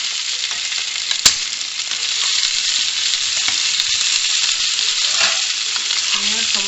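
Small potatoes sizzle in a pan, a steady broadband frying hiss holding throughout, with one sharp clack near the start and faint utensil sounds, no talking.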